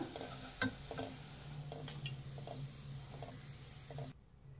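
Bread jamun balls deep frying in hot oil, a soft continuous bubbling sizzle with a few light clicks, fairly quiet and close, cutting off near the end.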